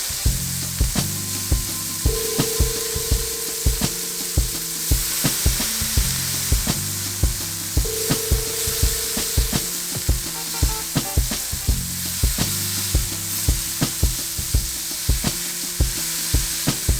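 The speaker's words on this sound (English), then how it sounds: "We're gonna smash these burgers up." Smashed burger patties for White Castle-style sliders sizzle on a hot griddle, a loud continuous fry with repeated scraping and pressing strokes of a single spatula throughout, no talking.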